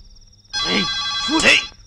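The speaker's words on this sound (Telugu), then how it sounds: "ఫోన్ ఇంకొస్తుందిరా" A telephone rings once in a bright, buzzing electronic trill lasting just over a second, loud and close after a quiet start, with a voice heard alongside it.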